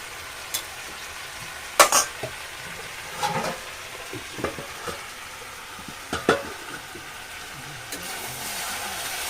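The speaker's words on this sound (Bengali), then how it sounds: "এবারে আমি এর মধ্যে দিয়ে দেবো জল কুমড়োটা মাখা মাখা হবে" Water goes into pumpkin cooking in a pan, with a low sizzle under scattered, close stirring scrapes and clatters from a spoon against the pan.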